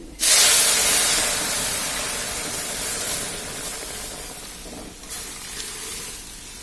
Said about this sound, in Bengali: ডালটা ঢেলে দিলাম, চুলার আঁচটা বাড়ানো থাকবে।